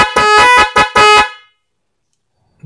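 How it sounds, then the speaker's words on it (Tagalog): Loud dual electric horn with a Nite 3 Plus Pro controller on a motorcycle, set to mode 3, blasting a rhythmic pattern of four bursts, two long and two short, then falling silent. "dual horn with Nite 3 Plus Pro"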